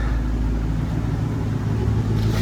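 An old barn-find car engine idles steadily once warmed up, a smooth, even low rumble running close by without a break and with no voices over it.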